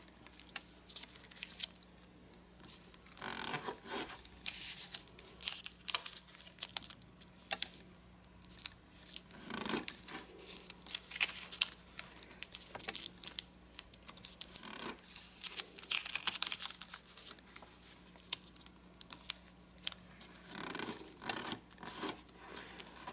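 Paper being folded for origami elf shoes, with quiet, intermittent crinkling, creasing and rustling across a steady stretch, close to the listener and with almost no talk.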